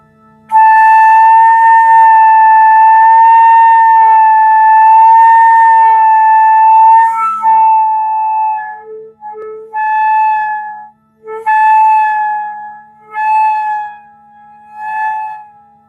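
A flute holds a long sustained tone, then slides its pitch up and down in siren-like swoops, broken by short pauses.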